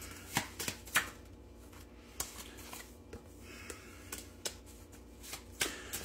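Tarot cards are shuffled quietly in an irregular series of soft slaps and flicks, some grouped closely and others spaced apart, over a faint background hiss.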